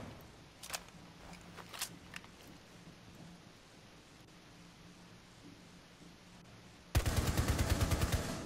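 Gunfire in Rainbow Six Siege: a few isolated, spaced shots ring out over quiet background noise, then a loud rapid automatic burst of closely spaced shots closes the stretch.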